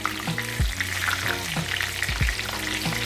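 Fish fries loudly in a pan of hot oil just after being flipped, a dense, constant crackling sizzle close by, with low thuds and shifting tones from the pan beneath.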